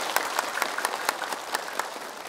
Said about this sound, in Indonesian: Tepuk tangan buat Anda semuanya.